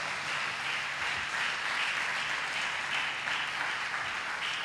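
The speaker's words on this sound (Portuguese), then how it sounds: "Aplauda Ele bem forte" A church congregation applauding loudly and continuously, a dense wash of many hands clapping at once that stays steady throughout, with no voices heard.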